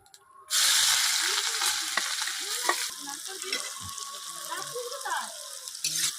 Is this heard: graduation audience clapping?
no